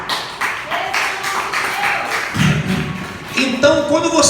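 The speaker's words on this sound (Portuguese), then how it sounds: "Pode dar uma salva de palmas para o Senhor." A church congregation applauds the Lord in a steady round of clapping that fills the whole stretch, with a voice carrying over the dense patter.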